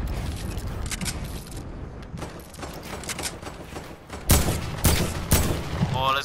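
Gunfire in a Fortnite battle royale match, bursts of sharp shots scattered through the clip and growing louder and closer toward the end, with a voice shouting over it.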